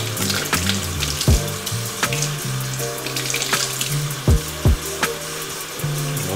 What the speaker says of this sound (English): Wash all my shrimp.